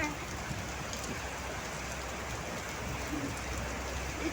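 Heavy rain pours steadily and close by, a dense, unbroken hiss of drops hitting surfaces with no pauses.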